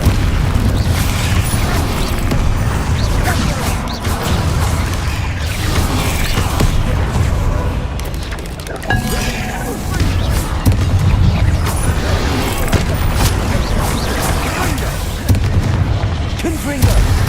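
Spell explosions from the Bombardo curse in the Hogwarts Legacy video game, heavy booming blasts rolling continuously through a dense, loud battle soundscape with speech-like chatter mixed in.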